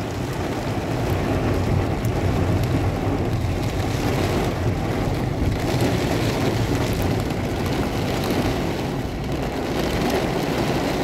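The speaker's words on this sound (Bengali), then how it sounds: "দেখুন ঝাপটা বাতাসের সাথে সাথে যে বৃষ্টি" Dense, steady roar of heavy rain driven by gusty wind in a desert town street, loud and close with no pauses and no voices.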